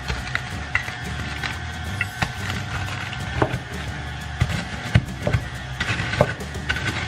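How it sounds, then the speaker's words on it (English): Graham crackers are mashed into crumbs, a steady run of soft crunching and crackling with irregular dull knocks, fairly close, with no talk. "take our graham crackers and we are going to mash it up"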